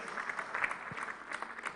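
Scattered applause from an audience at a supplier summit, faint and thin, a few hands clapping unevenly in a large room for a short burst.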